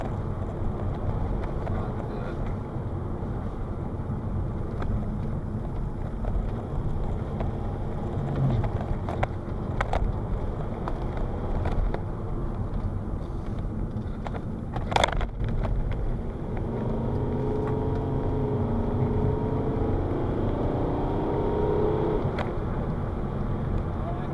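A Volvo V50 D5 diesel car pulls hard along a busy road, its engine drone rising under steady road and wind noise, with one sharp knock partway through.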